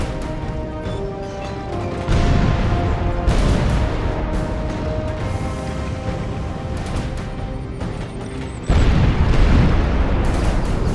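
Catapult and ballista artillery in Total War Medieval II pounding a battlefield, a sustained roar of booming impacts and crashes, with a louder surge about two seconds in and another near the end, no voices.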